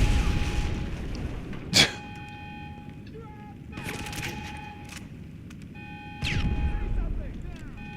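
Grenades explode in GTA 5 Online, one sharp blast followed by a few duller booms spread across a busy game soundscape with tonal effects.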